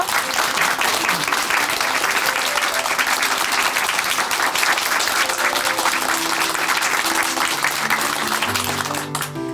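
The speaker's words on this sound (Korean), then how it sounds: "우리 홍미숙 자매님께 다시 한번 큰 박수 보내드릴게요." Church congregation at Chuncheon Hanmaum Church applauding loudly and steadily in a dense, continuous round of clapping that fills the room, with faint music or voices beneath toward the end.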